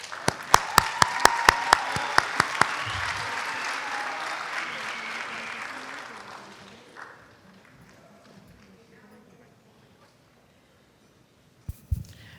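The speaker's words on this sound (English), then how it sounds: "let's give Ms. Sander and the MacArthur String Quarter a huge round of applause." An audience applauds a string quartet at a debate event, opening with several sharp, evenly spaced claps before broad clapping swells and then fades away to near silence, with a couple of faint knocks at the end.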